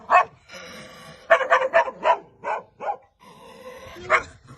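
A tethered dog barks repeatedly nearby, a quick run of sharp barks after a couple of single ones, with a faint whine between.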